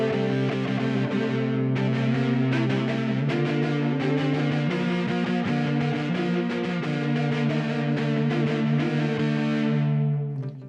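A Cantini electric violin through an SY-1000 plays sustained double stops with mild, clean distortion, the chords ringing loud and steady before cutting off at the end.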